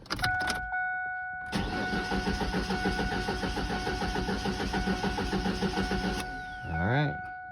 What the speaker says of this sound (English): come in here and try to start the truck